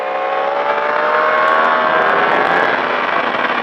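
A Yamaha R1 motorcycle at a track-riding session accelerates as the throttle opens, its engine giving a loud, steady, high-pitched howl that climbs slightly in pitch and runs close by without pause.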